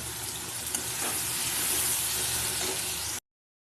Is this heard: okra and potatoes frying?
yes